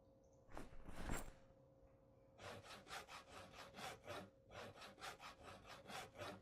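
A hand saw cuts wood to make wooden dowels in Project Zomboid: one rough stroke, a pause, then a steady run of about a dozen rhythmic rasping strokes, clear and close.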